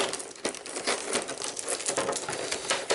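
Crackling, ripping noises of sticky tape being peeled off a Ghostbusters II board game box, with irregular sharp bursts and rustling, close up and moderately loud.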